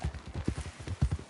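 Horse hooves clip-clop at an even walking pace in Red Dead Redemption 2, the clear rhythmic thuds sitting close and fairly loud with no voices on top.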